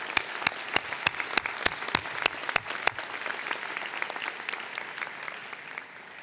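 Audience applause at a 2018 medical student commencement ceremony, starting with a series of sharp, evenly spaced close claps that give way to a softer, steady wash of crowd clapping that fades toward the end.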